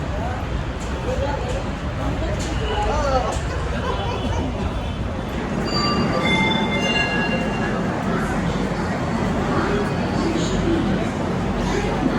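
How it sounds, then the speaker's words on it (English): Rumbling of a train moving through a station in India, with faint squeals and steady rail noise, and people chattering in the background. "I'm just gonna chill in the train station for a little bit."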